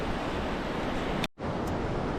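Calm ocean surf washing onto a gently sloping sandy beach beside dunes on an uninhabited island, a steady broadband wash of small waves with a brief dropout partway through, no voices.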